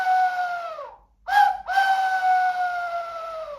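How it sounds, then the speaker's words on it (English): A hooting owl whistle, a toy bird-call whistle, is blown in two long, steady tonal hoots with a short break between, close and clear with no talking. "you may love the hooting owl whistle"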